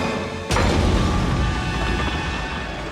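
A train in the 1999 animated film The Iron Giant hits with a sudden heavy crash and boom, then a loud, dense rumble that roars on steadily for the rest of the clip.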